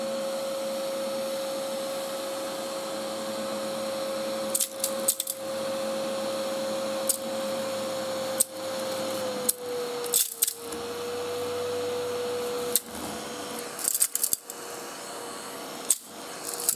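A Verk Group 15703 miniature handheld vacuum cleaner whines steadily at close range while sucking up small debris, which rattles and clicks through the nozzle in irregular bursts.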